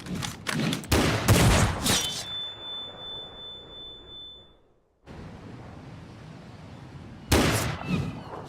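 A burst of gunshots rings out in a Final Fantasy XIV cutscene, several sharp loud cracks close together, then a fading ringing tail and near silence before another cluster of shots near the end.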